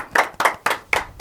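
Five sharp, separate hand claps in a steady rhythm, close and loud, welcoming a guest on an Indonesian podcast.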